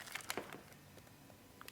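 Paper end of a handmade Christmas cracker squashed by hand, a few close, quick crinkling crunches at the start that fade into faint rustling.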